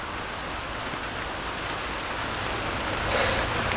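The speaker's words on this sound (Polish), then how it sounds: "Deszcz." Steady rain falls as a continuous, even hiss with no talking.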